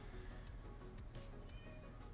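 A pet kitty meows softly a few times, faint and close, over a low steady hum with no one speaking.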